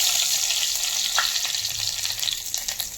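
Curry leaves, cumin and mustard seeds temper in a little hot oil for kadhi, giving a steady, loud, close crackling sizzle throughout, with no voices.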